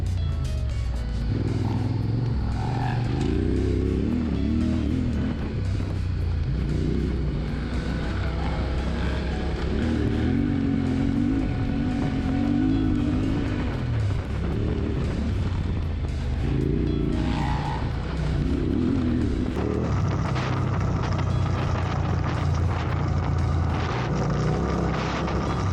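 Adventure motorcycle engine droning steadily while riding downhill, a continuous rumbling hum with shifting pitch and wind noise, loud and close for the whole stretch, no talk.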